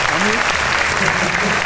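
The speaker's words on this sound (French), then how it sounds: "vous pouvez l'applaudir." Audience applause at the Miss Lorraine 2013 pageant, a steady, dense wash of clapping from a large crowd filling the whole short stretch at high volume.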